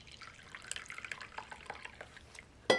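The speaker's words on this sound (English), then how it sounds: "I'm just pouring myself a little" Morning coffee is poured into a cup in a soft, trickling stream of small liquid splashes, faint and close, ending with a sharp clink.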